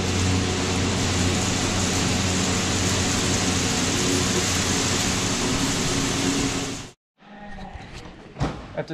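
Heavy rain pours steadily during a grain-hauling stop, a dense loud wash that cuts out abruptly near the end, leaving quieter rustling and a few knocks.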